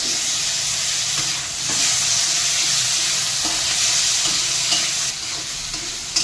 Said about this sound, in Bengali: পেঁয়াজটা হাফ হাফ ভাজা হয়ে গেছে টমেটোর সঙ্গে হাফ ভেজে নিলে কমপ্লিট হবে